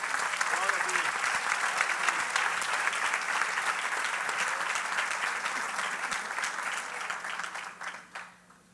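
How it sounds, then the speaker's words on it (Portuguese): Church congregation clapping at a family seminar service, a long steady mass of applause with voices mixed in, gradually fading out near the end. "Vamos aplaudir ao Senhor."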